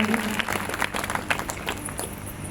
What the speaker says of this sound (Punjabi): ਸਭ ਜਨ ਪਰਮੇਸ਼ਰ ਦੀ ਮਹਿਮਾ ਦੇ ਲਈ ਤਾੜੀ ਮਾਰਾਂਗੇ